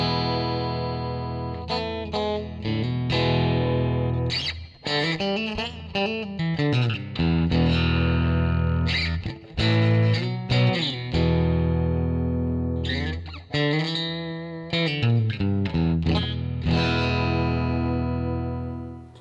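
Ibanez RG421 electric guitar with split inner coils, played through a Firehawk FX for a twangy, lightly distorted tone, running through a long stretch of picked notes and chords, loud and close with no talk.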